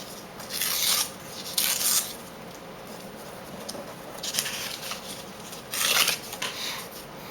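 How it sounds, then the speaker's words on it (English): Construction paper torn apart by hand in several short, crisp ripping bursts at an irregular pace, close and fairly loud, with quiet rustling of the paper between tears. "I have some different sizes, and I'm just going to rip it apart"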